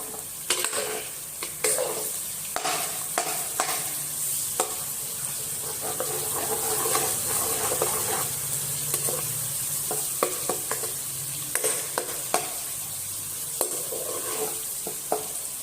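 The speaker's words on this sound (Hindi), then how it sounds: "अब इसको हम अच्छे से लहसुन को जो है वो फ्राई करेंगे।" Garlic paste fries with onions in a pot for a dal and meat curry, a continuous near sizzle broken by frequent sharp spatula clinks and stirring scrapes against the metal, no voices.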